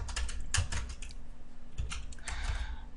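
Keys tapped on a computer keyboard in short clustered bursts, light clicks near and fairly quiet against a low steady hum, no talking.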